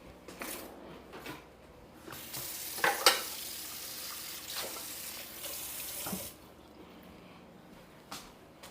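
Water from a kitchen tap runs into a small bowl while making Sicilian arancini, with several splashy bursts and rushing stretches broken by brief pauses, close by and fairly soft.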